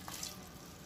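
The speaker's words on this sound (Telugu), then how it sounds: "ముడక్కాడలు వేసుకొని కొంచెం మసాలా వాటర్ పోసుకుందాం" Masala water poured into a pan of mutton curry with drumsticks, a brief soft splashing trickle close by, with no talk.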